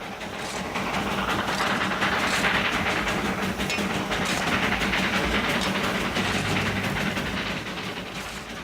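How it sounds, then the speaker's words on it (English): A small locomotive on the Darjeeling Himalayan mountain railway rumbles steadily along the track, with a dense rattling roar, faint clanking and a low engine drone throughout, fairly loud and close. "18 little locomotives run back and forth on the Darjeeling Himalayan line."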